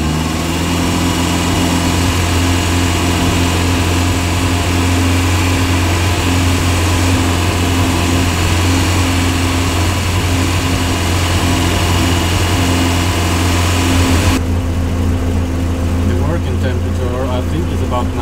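A BMW E36 engine runs at a steady idle, a close, even drone with a constant low hum, and a voice talks over part of it.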